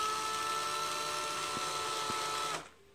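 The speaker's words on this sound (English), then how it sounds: "and slowly drill." A power drill slowly bores out a broken dowel from a shoe heel, giving a steady whirring hum with faint clicks partway through, then cutting off abruptly near the end.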